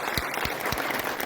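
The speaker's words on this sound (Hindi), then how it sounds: "उनके लिए जोरदार ताली बजाओ" Audience at a large public gathering claps loudly in a dense, sustained round of applause, with a few heavier rhythmic claps standing out, no speech over it.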